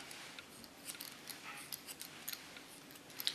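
Hair being slice-cut with scissors for a short pixie cut, with faint soft snips and light shearing strokes repeating irregularly in a quiet room.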